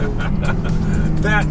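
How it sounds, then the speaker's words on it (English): A 2015 Dodge Charger SRT Hellcat's engine rumbles steadily from inside the cabin, a deep, loud exhaust drone with a brief rise in pitch near the end. "That is the engine note."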